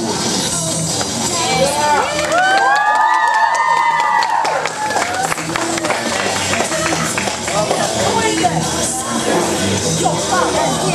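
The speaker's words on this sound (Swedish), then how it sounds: "En varm applåd!" A crowd at a cosplay show in a bookshop cheers, shouts and claps, with a high excited voice rising above the noisy mix and steady applause continuing throughout.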